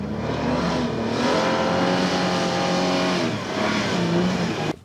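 An off-road truck's engine drones steadily under light throttle while climbing a hillside, a loud, close, continuous rumble with a slight swell in revs and a brief dip before holding steady to the end.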